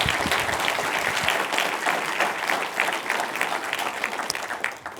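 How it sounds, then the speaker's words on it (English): An audience at a distinguished university lecture gives a round of applause welcoming the speaker, a dense, even wash of clapping that holds steady throughout and tapers slightly at the close. "let's give Tom a round of applause and a welcome."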